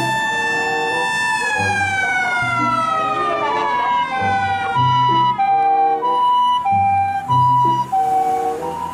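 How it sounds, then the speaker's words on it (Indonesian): A white toy ambulance wails with a loud electronic siren, its pitch sweeping down then settling into an alternating two-tone pattern close by, with no talk over it. "ternyata ini adalah mobil ambulan"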